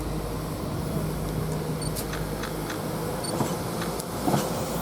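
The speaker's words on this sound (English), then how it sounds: "There goes the Kidderminster train." A West Midlands Railway Class 172 diesel train departing Stratford-upon-Avon for Kidderminster, heard as a low, steady engine drone with faint clicks and squeals from the track, fairly distant and unchanging.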